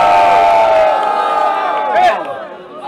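A crowd at a rap battle final yells and whoops loudly, shouting voices piling up into a dense, close roar that rises again near the end.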